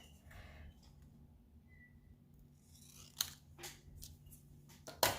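Scissors snip through paper for a toddler Christmas scrapbook layout, a few sharp crisp cuts near the end of a quiet stretch, close and moderately loud over faint room hum.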